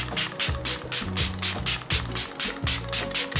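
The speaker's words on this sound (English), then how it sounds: "So I was also sent a setting spray called the Nuban Beauty Seal It Makeup Fixing Spray." Rapid repeated hissing pulses of a Nuban Beauty Seal It makeup fixing spray misting, about a dozen close spritzes in a steady rhythm.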